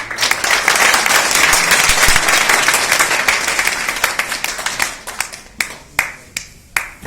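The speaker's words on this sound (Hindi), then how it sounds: "गुजारिश है आप लोग तालियों से इस्तकबाल करें।" Audience at a community gathering claps to welcome an honoured guest, loud dense applause that thins out into scattered individual claps toward the end.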